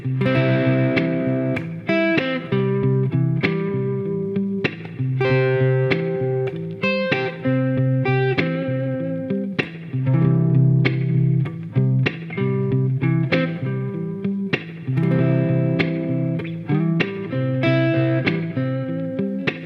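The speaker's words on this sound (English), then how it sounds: "Now what I'm going to do is play a chord and then play chord tones." Distorted electric guitar strums a chord, then picks out individual notes in a steady pattern, repeating the sequence several times with sustained, effect-laden tone.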